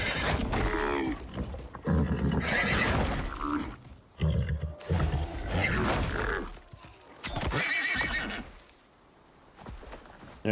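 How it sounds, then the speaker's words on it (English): Horse neighs and whinnies from the survival game Icarus, loud and repeated in bursts over roughly ten seconds, with hoof-like clopping, no voices. "that Tyrannosaurus horse is right behind me"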